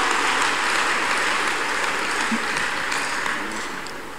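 A church congregation claps steadily and densely through a Sunday combined testimony service, a dense wash of hands that fades slightly toward the end with no talk over it.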